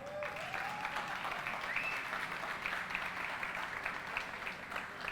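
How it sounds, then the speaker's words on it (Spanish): Audience applause welcoming a speaker at a talk on impact tourism, an even, sustained patter of many hands clapping at moderate distance, with a faint rising tone early on. "Démosle un fuerte aplauso a Juan Pablo."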